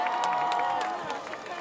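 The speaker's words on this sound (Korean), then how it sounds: "다시 한번 큰 박수 부탁드립니다." An outdoor K-pop concert audience claps and cheers in a short, dense burst of applause that tails off, heard a little way off.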